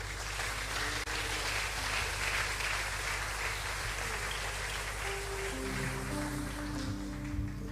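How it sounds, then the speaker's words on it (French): A church congregation at a Sunday celebration service applauds its choir, a steady dense wash of clapping throughout with a low hum underneath and faint tones toward the end. "Est-ce que nous pouvons acclamer pour la chorale?"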